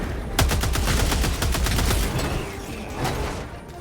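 Rapid bursts of tank gunfire in Helldivers 2, a dense run of loud repeated shots over about two seconds that then trails off into a rumbling tail with one more shot near the end, with no talk.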